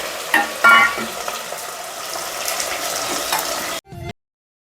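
Spiced tempering sizzles and crackles in a hot pan while gunda (glueberry) vegetable curry is made, a steady dense frying hiss with a few sharp pops near the start before it cuts off abruptly.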